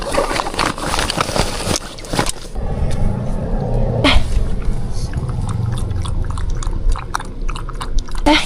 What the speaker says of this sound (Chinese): 小狗吃点零食